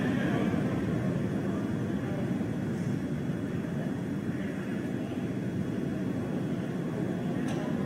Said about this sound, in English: We heard we're throttling down the Merlin engines on the first stage.